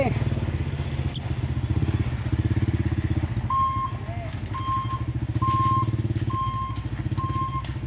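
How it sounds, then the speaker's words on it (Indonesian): A truck heard close by with a heavy rumbling engine, joined partway through by a steady run of high reversing beeps repeating at regular intervals. "Mobil truk saja lewat."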